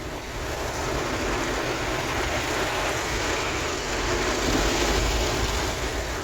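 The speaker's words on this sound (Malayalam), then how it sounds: "മഴയുണ്ട് നല്ല മിന്നി എറിയുന്നുണ്ട്" Rain during a night drive, a dense steady wash of falling rain and road spray with a low vehicle rumble underneath and no talk.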